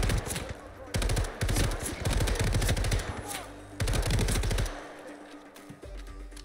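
Rapid automatic gunfire bursts from the Hitman video game, loud and dense, with several sustained volleys separated by short gaps, ending in a quieter stretch.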